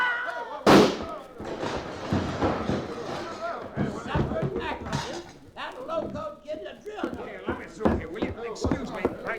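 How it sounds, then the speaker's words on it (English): A single sharp gunshot sound effect from a radio western drama, loud and close, followed by continuous dialogue between several voices. "Duke, who plugged Tim? I did, Chad"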